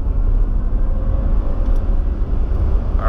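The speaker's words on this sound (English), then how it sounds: "We're gonna enable launch mode and go for it all." A Tesla Model S P100D with Ludicrous Plus launches hard in launch mode, a steady low rumble of road and motor noise building from inside the car, with no talking.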